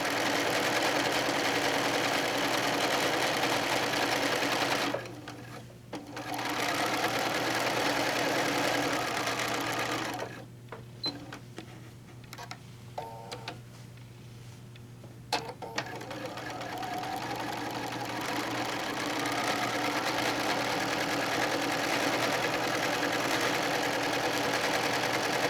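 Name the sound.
sewing machine with walking foot stitching placemats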